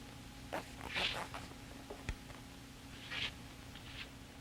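A clothing zipper drawn up in a few short, scratchy pulls over a low steady hum, faint and close, with no voices.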